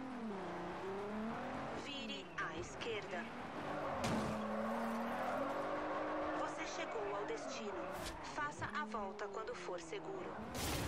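Engine roaring and revving in the Forza Horizon 2 racing game as a car drifts, with rising and falling pitch sweeps and tire squeal over steady music, while people talk over it throughout.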